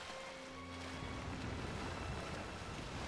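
Swimming through water in Shadow of the Colossus, a continuous splashing, surf-like wash with low rumbling and a few faint tonal hums early on, steady and fairly loud.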